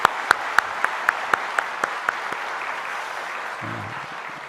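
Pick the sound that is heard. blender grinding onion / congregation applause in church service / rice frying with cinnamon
congregation applause in church service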